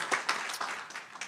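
An audience at a community partnership breakfast claps in a short, uneven burst. The individual claps are close and fairly loud and carry on steadily for just over a second.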